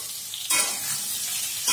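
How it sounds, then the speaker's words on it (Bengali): Pointed gourd (potol) pieces fry in oil in a pan for a chana and potato dorma, with a steady close sizzle that swells sharply as they are stirred, then settles and surges again near the end. "পটলগুলোকে লাল করে ভেজে নেব।"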